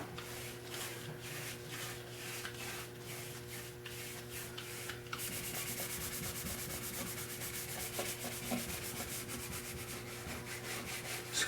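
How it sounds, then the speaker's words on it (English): An old Victorian table's finish is scrubbed with steady, rhythmic rubbing strokes, close and continuous, growing denser and harsher partway through over a constant low hum. "Scrub, scrub, scrub, rinse and repeat"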